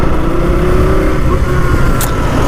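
A KTM Duke 200 motorcycle engine runs in third gear at low speed, a steady loud rumbling drone close up with a faint rising whine, no talking over it.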